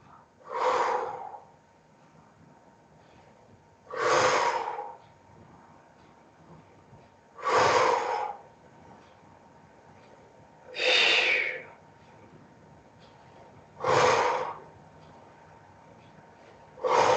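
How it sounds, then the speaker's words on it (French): Five slow, evenly spaced breaths during a gentle evening pilates session, each a soft airy rush of exhaling or inhaling lasting about a second, close and clear with quiet pauses between. "Expire et inspire."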